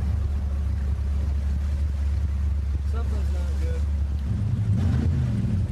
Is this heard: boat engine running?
yes